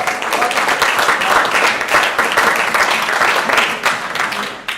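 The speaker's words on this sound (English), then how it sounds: "you all deserve a round of applause" Sustained audience applause fills a hall at an evening awards presentation, dense and steady clapping from a sizable crowd throughout, close and loud with no clear voices over it.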